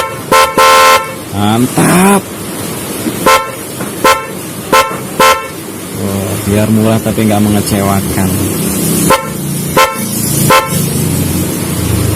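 A pair of 12-volt snail-type car horns wired through a relay blares in repeated short and longer honks, loud and close, with someone talking between the blasts.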